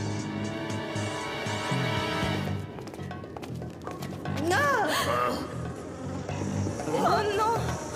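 Giant insects buzzing in a tunnel, a steady droning hum with whooshing swoops passing close, layered under music and voices in an animated scene.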